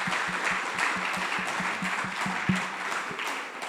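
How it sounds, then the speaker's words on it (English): An audience at a community dialogue event applauds its speakers, a steady wash of many people clapping at moderate distance, sustained for several seconds without anyone talking. "let's give our speakers a round of applause"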